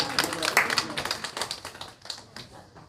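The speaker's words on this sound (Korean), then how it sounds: "박수 한번 쳐주세요" A church congregation claps for a moment during a Sunday morning service, a brisk patter of many hands that thins out toward the end, with voices mixed in.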